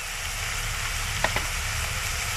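Spice paste with turmeric, garam masala and homemade red masala sizzles steadily in a pan for banana flower curry, a soft continuous frying hiss with a couple of faint stirring clicks near the end.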